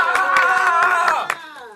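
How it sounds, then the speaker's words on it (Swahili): Congregation clapping in a church service, a burst of sharp hand claps over a sustained musical tone, fading out after about a second. "Basi tumpigie Bwana makofi kwa sababu kwanza tumepata maombi"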